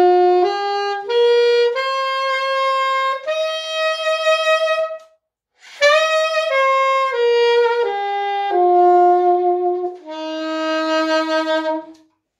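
A solo saxophone plays a rising then falling major pentatonic scale, one sustained note after another, clear and close with no other sounds.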